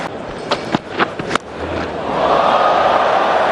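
Crowd at an England versus New Zealand cricket match roaring as Ben Stokes hits a big shot, a few sharp bursts giving way to a swelling, sustained cheer that builds louder toward the end.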